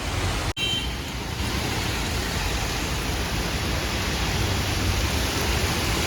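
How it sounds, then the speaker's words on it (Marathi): Heavy rain pours steadily during a Ganpati arrival procession in Powai, a dense, even wash of noise that holds throughout, with a brief dropout early on and no talk. "तिकडे खूप मोठा पाऊस आला हा बघा"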